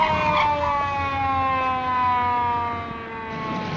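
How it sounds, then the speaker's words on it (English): A police car siren from a 1939 film wails steadily and loud throughout, its layered tones holding and slowly drifting, with no voices over it. "It's a police car after you."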